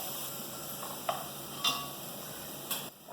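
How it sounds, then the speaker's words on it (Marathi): Onion being sautéed in a pan for a snake gourd dish, a soft steady sizzle with three brief light taps of a spoon against the pan, quiet and close, with no talk. "कांदा आधी चांगला आपण परतून घेऊ"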